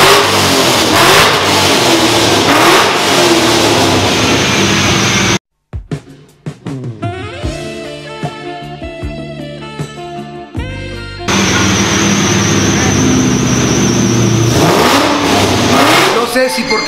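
A car engine revving hard and loud up close, a sustained roar that drops out briefly, then a rising and falling engine tone with a sharp clatter, before the full roar returns, with people talking over it.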